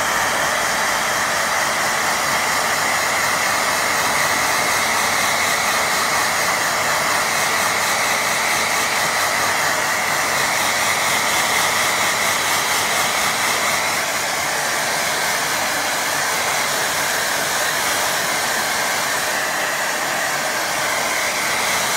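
A hair dryer blows steadily over a watercolour painting of rocky hills, a loud, constant whooshing hiss that runs unbroken from start to finish with no voices.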